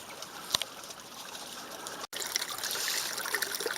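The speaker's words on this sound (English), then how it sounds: "Typical little mountain creek, overgrown, quite deep channel." Small overgrown mountain creek in a deep channel, trickling steadily at moderate distance, a continuous soft watery wash with brief louder splashes.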